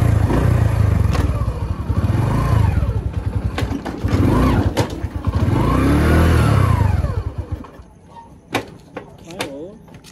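A Hero Honda CD100ss motorcycle engine runs and revs in repeated surges, close and loud, that fade toward the end, with someone talking over it.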